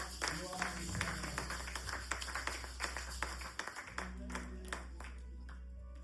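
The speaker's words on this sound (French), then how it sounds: "Nous recevons le pasteur Dédé avec nos acclamations" A church congregation at a Sunday service claps for the pastor in a steady run of claps over a low hum, fairly faint, with voices talking and calling out beneath.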